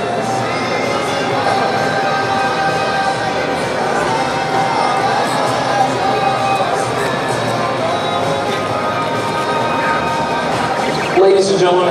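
A large crowd at a Pokémon VGC championship roars and cheers steadily throughout, a dense wash of shouting and clapping that never lets up.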